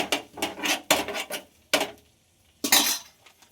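A spoon stirring pav bhaji masala with coriander leaves in a metal pan, a series of close scraping and clanking strokes, some quick and bunched together, others single, with brief pauses between them.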